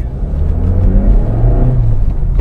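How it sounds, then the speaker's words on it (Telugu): A Maruti Suzuki Baleno accelerates hard in first gear at high rpm, its engine droning loudly and continuously with a rising whine, heard close from inside the car. "First gear at hire ఆర్పిఎమ్స్. Initial pickup చూడండి."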